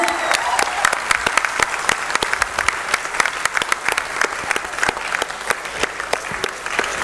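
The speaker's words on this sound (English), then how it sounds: "Please give them a round of applause." An award ceremony crowd at a smartIDEAthon event at GITAM, Vizag gives loud, sustained applause, a dense field of clapping with sharp individual claps standing out throughout.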